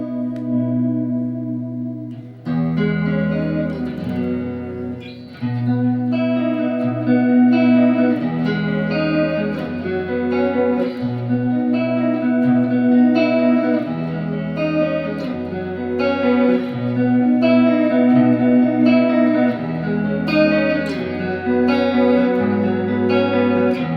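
Electric guitar played with a chorus effect for a rock soloing lesson gives a shimmering, ambient wash of layered notes and chords, moderately loud and continuous with no talking.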